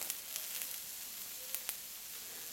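Beef steak sizzles and fries on a blue Rønne granite plate from Bornholm, a faint continuous hiss broken by a few sharp pops and crackles, with no voices.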